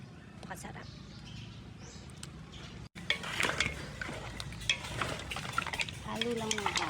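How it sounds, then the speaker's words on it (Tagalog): Seafood Cajun being stirred in a pot, with scraping and clinking of a spoon against the metal over a bubbling simmer, and a voice talking alongside. "Halo lang ng halo."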